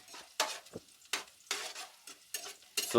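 Onions frying in a pan for sprouts pulav, about seven sharp scraping stirs in an irregular rhythm over a light sizzle, with a metallic clink near the end, close and with no voices.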